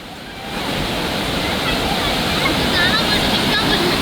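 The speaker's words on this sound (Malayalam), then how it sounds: "ആ താഴെ കണ്ട വെള്ളം ചാടുന്നു അങ്ങോട്ട് നോക്കിയേ" A continuous, dense rush of falling water fills the scene, broad and steady like a waterfall heard from nearby: Marmala Waterfalls in the rainy season.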